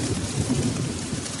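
Steady rain falls as a sound effect for a Hindi children's story, a continuous dense hiss with no voices.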